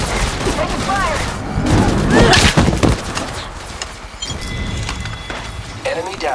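Gunfire from Apex Legends Mobile, a video game firefight with loud bursts and sharp shots, mixed with in-game voice callouts and neighing-like effects.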